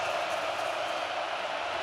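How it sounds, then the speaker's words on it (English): A Penn State whiteout stadium crowd during a football game against Iowa roars as a broad, steady wash of noise, loud and continuous for a couple of seconds. "The whiteout crowd getting noisy for the Hawkeyes"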